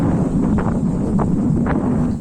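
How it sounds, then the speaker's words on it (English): Steady wind gusting past the microphone on a hot, blustery day in George Town, Penang, a continuous rushing roar with a few faint rustles rising through it. "This day was very windy"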